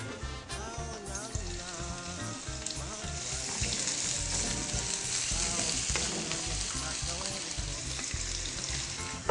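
A banana omelette frying in a little oil, a loud, close, continuous sizzle and crackle with occasional stirring, growing slightly louder midway, no talking.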